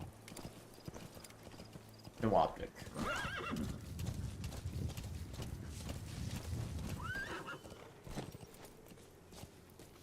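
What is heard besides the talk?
horse galloping hooves in video game Metal Gear Solid V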